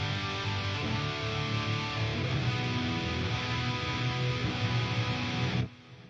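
Electric guitar played through a Fractal FM3 preset with a heavy, boomy low end, a dense sustained tone with strong bass, steady and loud, ending abruptly near the close.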